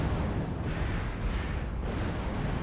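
Missile explosions rumble in MechWarrior Online as a Hunchback 4J mech comes under fire, a dense, continuous low roar of blasts with no clear gaps between impacts.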